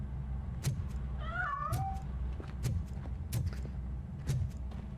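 Cat in the video game Robocop: Rogue City meows as it escapes from a piano, one clear mid-pitched meow over a low game rumble, with scattered sharp knocks and clicks around it.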